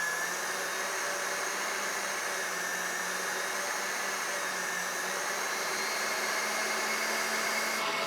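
An electric mixer beats egg whites while hot sugar syrup trickles down the side of the bowl for buttercream frosting, giving a constant, even motor whir that holds steady and fairly quiet throughout, with no voices.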